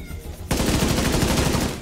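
Sustained rapid automatic gunfire in The Division 2 video game erupts suddenly after a quieter moment and keeps up a steady, dense rattle close by.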